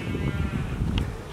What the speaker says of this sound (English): Okay, I found the sheep. They're literally on a hill.